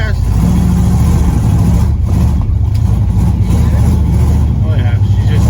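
A Jeep engine revving loud and steady throughout, with a deep low rumble and voices talking over it.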